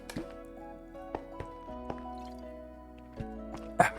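Soft liquid drips and sloshes with small splashy clicks over a quiet hum, as water is scooped up in the game TerraFirmaGreg.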